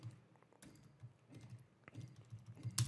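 A task title is typed on a computer keyboard in quick, irregular bursts of soft key clicks. It is faint but close, with no talking.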